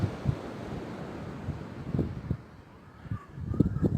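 Sea waves washing onto the shore on a warm day in Lagos, a low steady wash with wind noise on the microphone and a few soft surges breaking through, no talking.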